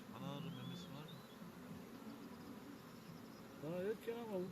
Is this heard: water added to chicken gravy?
no